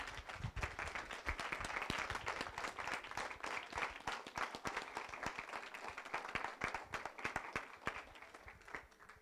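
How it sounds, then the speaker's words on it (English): A standing audience at a Black History Month panel discussion on "Fruitvale Station" applauds the panelists with steady, sharp hand claps that continue for about nine seconds at moderate level. "Can we please give a standing round of applause for all the panelists here who came and volunteered their time?"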